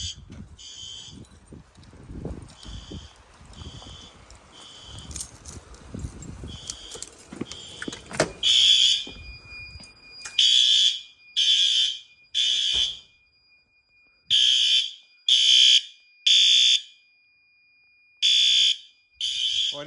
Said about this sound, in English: This strobe is good, horn strobe I should say.